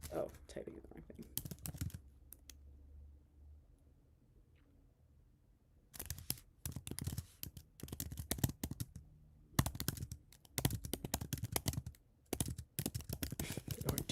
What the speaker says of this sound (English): Oh, typing the wrong thing.